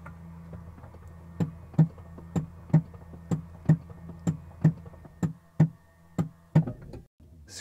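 Nio ET7 battery swap station at work, with a steady series of about a dozen sharp metallic knocks and bangs at a regular rhythm over a low mechanical hum, fairly faint, ending in a short clatter.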